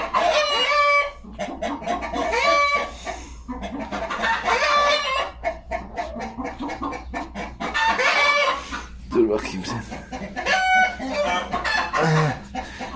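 A broody hen clucks close by in repeated, throaty bursts and drawn-out calls, with other chicken sounds around it in a farmyard setting.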